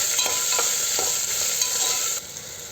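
Chopped potato, green chili and onion stirred into a hot pan for a Kerala palappam side dish, a spatula scraping through them in a few short strokes over a steady sizzle, close and fairly loud, with no talk.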